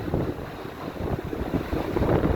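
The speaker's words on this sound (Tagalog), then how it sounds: "so lakas ng hangin" Strong, gusty Typhoon Nika wind roars and pounds against the microphone continuously, a loud, turbulent rush filling the short stretch.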